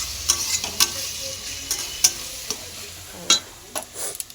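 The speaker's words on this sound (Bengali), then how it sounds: "পুরো মাটনটাকে আমি এরকম জল ঝরিয়ে তুলে নেব।" Mutton pieces lifted and drained from a pan of cooking spiced sauce, with close, crisp scraping and clinking against the pan over a faint steady sizzle, several sharp taps spread across the stretch.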